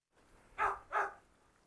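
Two sharp dog barks about a third of a second apart, fairly close and moderately loud, from one of a household's many dogs, a pack including a Doberman and a Cane Corso, at feeding time, with a quiet room behind.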